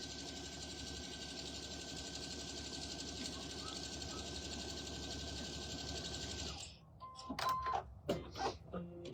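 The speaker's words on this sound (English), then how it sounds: "So we're serging that seam." A serger runs a seam on a drawstring bag with a fast, even mechanical whir for about six seconds, then stops, leaving a few light handling clicks and rustles.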